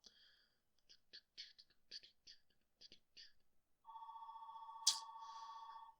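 A telephone rings with a steady electronic tone after a stretch of soft whispering, the ring loud and sustained for a couple of seconds near the end.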